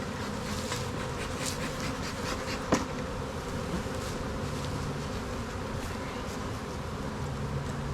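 A swarm of honey bees buzzes in a steady, dense drone that fills the whole stretch, with a single sharp knock partway through and no voices.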